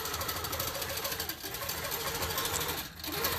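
A long-arm quilting machine stitches a row in a fast, steady mechanical chatter, faint and continuous, with two brief dips in the rhythm.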